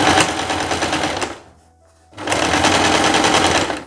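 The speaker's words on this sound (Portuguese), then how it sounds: "A gente já vai passar uma costura, um pesponto aqui em cima para bater essa costura de baixo." A sewing machine topstitches along fabric, running loud and steady with a fast mechanical whirr, pausing briefly in the middle before resuming at full speed.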